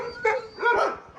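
A hostile dog gives two short, tense barks, a quick single yap followed by a longer, whining bark. Both are heard close by in a quiet setting.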